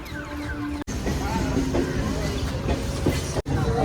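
A train rumbles past at close range at a Kolkata station with steady rolling noise and faint rhythmic clatter, while voices murmur in the background.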